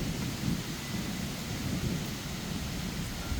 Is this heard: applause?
no